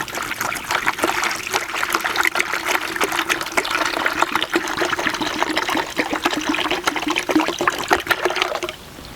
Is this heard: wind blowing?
no